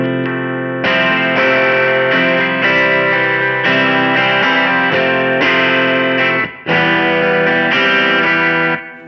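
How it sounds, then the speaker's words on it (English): An electric guitar played through a Keeley Verb O' Trem pedal set for a short spring reverb, loud sustained chords changing every second or so with a brief gap near the end. "Just have a nice little short spring reverb."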